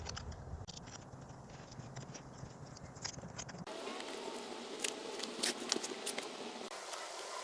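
Hand-fitting of a bracket on a Troxus Vulcanus fat-tire mountain e-bike: close, irregular metallic clicks, scrapes and small clacks that grow brighter and busier partway through, with no talking.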